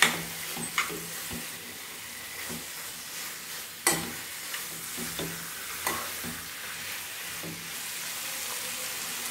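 Prawns stirred into a frying curry in a pan, a steady broadband sizzle with intermittent scraping stirs and a few sharp clinks, close and moderately loud, with no voices.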